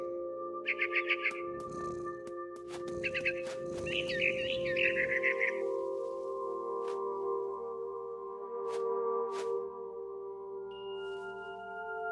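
Bright, rapid bird chirps from the video game What Remains of Edith Finch come in short bursts over a steady electronic hum, then fade, leaving the drone and a few faint clicks.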